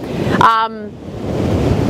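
Ocean waves wash up the shore as a broad, loud rush with wind noise, briefly overlaid by a short voice or whistle-like sound.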